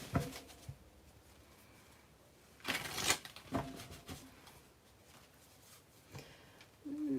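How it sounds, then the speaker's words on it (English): Tarot cards shuffled by hand, quiet riffling and soft card slaps in bursts with a louder flurry midway, close and without talk. "a couple upright shuffles, because why not? I shuffle every which away"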